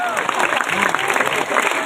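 An audience at a religious gathering claps in a dense, continuous burst of applause, loud and even throughout, with a faint background voice.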